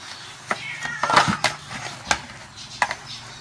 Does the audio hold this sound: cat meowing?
yes